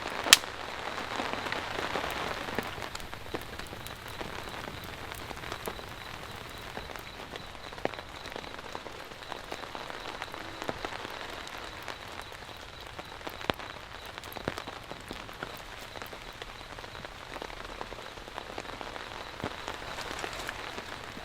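Rain falls on a camping shelter above an elevated fire, a continuous soft patter with scattered sharper drops and occasional louder taps, steady from start to finish with no talking.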